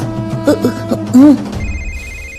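A telephone rings with a steady, repeating electronic trill that enters partway through, following a burst of tonal background sound from a village horror story scene; no voices are heard.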